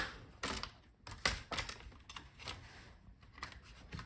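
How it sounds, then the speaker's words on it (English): A plastic pry tool pops apart the clips between the bottom case and palmrest of a Dell Precision 7540 laptop, giving a series of sharp, close clicks and snaps at irregular intervals. "use plastic tool to separate both parts"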